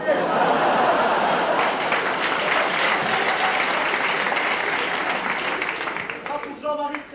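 A 1981 French studio audience applauds a game-show president with a dense, sustained burst of clapping that gradually thins out. A voice comes in near the end.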